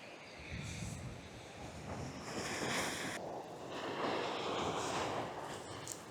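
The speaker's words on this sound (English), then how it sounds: "the wind sweeping from right to left" A westerly wind blowing across the microphone at the shore while sea fishing, a loud, continuous rushing roar with gusting swells and surf mixed in.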